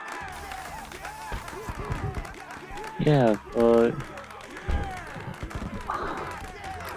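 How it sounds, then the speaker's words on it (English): Two short bursts of clapping from a crowd of characters in Batman: Arkham Asylum, each about half a second, with someone talking throughout. "Look at all these guys clapping for us."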